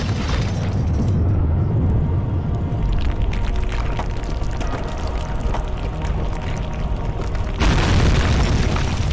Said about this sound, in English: I love finishing with the kaboom